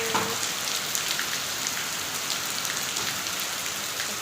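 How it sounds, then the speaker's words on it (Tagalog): Heavy rain pours steadily onto surfaces, a dense, continuous hiss with scattered louder drop impacts, close and alone with no voices. "Umulan na dito."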